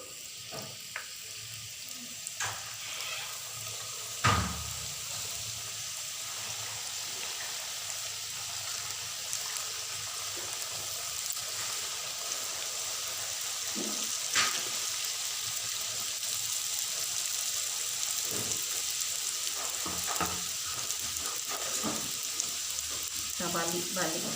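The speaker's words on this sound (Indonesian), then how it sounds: "Kita goreng." Food sizzles steadily in hot cooking oil in a pan, a constant frying hiss with occasional stirring clatters and a voice speaking now and then.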